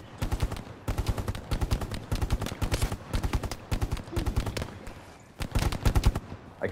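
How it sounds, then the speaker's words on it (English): Suppressive machine-gun fire in the WWII video game Hell Let Loose: close, loud rapid-fire bursts, each a quick string of shots, repeated in a steady rhythm with short gaps between. "I'm putting down suppressive fire."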